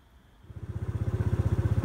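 Moped engine in a forest catching after repeated kick-starts, rising from quiet into a steady, close, rapid put-put idle with even low pulses.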